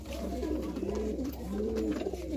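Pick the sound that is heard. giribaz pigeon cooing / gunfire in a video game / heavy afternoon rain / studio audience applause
giribaz pigeon cooing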